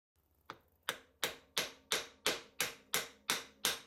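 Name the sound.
small hammer taps on brass bar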